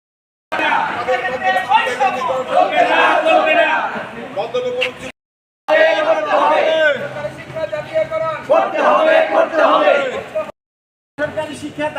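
A crowd of protesting teachers at a rally demanding nationalisation of education chant slogans together in loud, rhythmic bursts of shouting, broken by short silent gaps.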